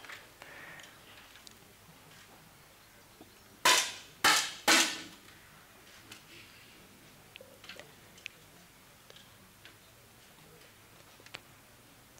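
Three sharp 10m air rifle shots in close succession at a shooting final, each a crisp pop with short decay, set against a quiet hall with faint scattered clicks.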